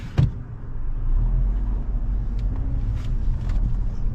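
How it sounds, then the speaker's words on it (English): A car pulls away from a gas station pump, its low engine rumble steady and fairly close after a brief bump at the start, with faint clicks and station noise around it. "Okay, looks like the car is pulling off."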